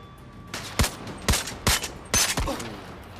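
Gunfire in the shooter game Zero Caliber: four sharp, loud shots crack out in an irregular volley, each with a short echoing tail, and no talking is heard.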